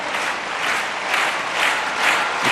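A stadium crowd at a Diamond League athletics meeting in Lausanne applauds pole vaulter Lavillenie, a dense, steady wash of clapping that swells slightly in waves throughout.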